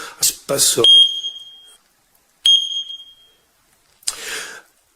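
An X-Sense carbon monoxide detector with a display sounds its test alarm: two loud, piercing electronic beeps, close up, each following a burst of speech and then fading out into silence.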